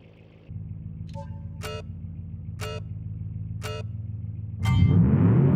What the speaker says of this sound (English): it's a fantastic launch for the DTM car